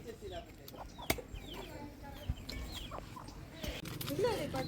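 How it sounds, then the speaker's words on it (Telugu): Chickens cluck and call faintly in the background, with scattered voices and a few sharp knocks nearby. "మా కోళ్ళు"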